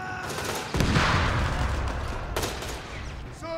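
Sustained gunfire from the video game Company of Heroes 3, a dense, loud fusillade of overlapping shots with sharp cracks near the start and again toward the end, with no speech.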